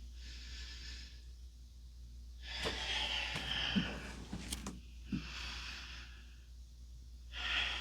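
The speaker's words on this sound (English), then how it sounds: "Inhaling and exhaling. Inhaling and exhaling." Slow, deliberate breathing during a beginner yoga session, long airy inhales and exhales alternating at a steady pace, close and soft over a low background hum.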